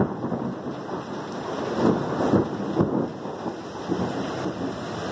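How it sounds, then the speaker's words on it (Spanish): Thunder rumbling through steady heavy rain in Siloé, with deep rolling booms swelling repeatedly over the constant hiss of rainfall; no voices. "Siguen los truenos, durísimo."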